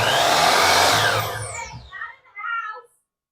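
DeWalt miter saw, the largest model, fired up for a brief test run: a loud close motor whine that spins up, then winds down with a falling pitch over about two seconds, and a short second burst.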